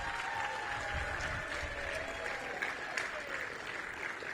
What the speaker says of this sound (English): So please give a big round of applause for the Chris Group